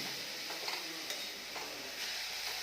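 Grated carrot frying in ghee over a full flame for gajar halwa, a steady close sizzle with occasional stirring scrapes throughout, no voices.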